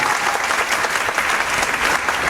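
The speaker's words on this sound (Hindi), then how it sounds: "इनके लिए जोरदार तालियां" An audience breaks into loud, dense applause, many hands clapping together in a continuous burst that stays even throughout.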